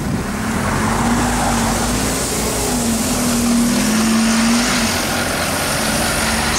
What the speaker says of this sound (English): It's Brighton and Hove, Bus Route 6.